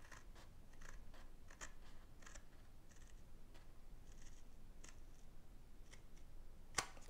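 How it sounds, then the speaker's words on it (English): Large, sharp paper scissors trim a long strip of paper for a card, making a series of soft crisp snips in an irregular rhythm, close and quiet, followed by one sharper click, with no speech. "I like to use larger scissors if I'm trimming something so long."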